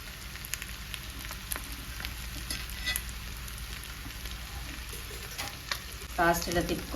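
Raw cashews fry in hot oil for a chicken fry, sizzling continuously up close while a spatula stirs and scrapes through the pan, with a few louder scrapes near the end.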